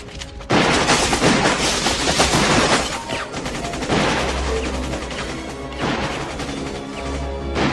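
Gunfire aimed at office windows rings out in loud, rapid bursts of shots mixed with crashing impacts, with brief pauses between volleys, close and without speech.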